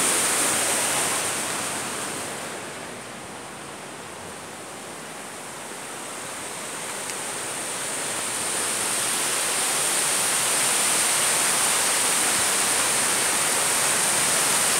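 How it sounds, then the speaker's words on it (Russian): Broad, steady rushing water, the Liakhvi River flowing nearby in Tskhinvali with a constant hiss that swells slightly and never lets up. "река Ляхва утекает это в сторону Грузии."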